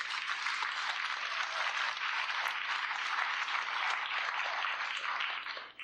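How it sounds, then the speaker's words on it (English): Steady, dense applause from a festival audience at a stage hypnosis show during Corn Days in Dows, Iowa, filling the whole stretch at an even level before cutting off at the end. "Give them a big round of applause, please"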